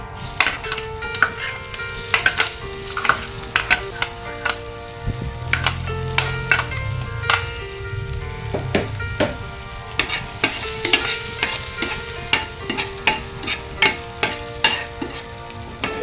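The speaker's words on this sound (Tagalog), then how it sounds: "Gisa-gisa natin ang bawang hanggang sa mag-brown para mabango." Garlic sautés in a pan for spaghetti sauce, a continuous close sizzle punctuated by regular scraping and clinking of a spatula as it is stirred.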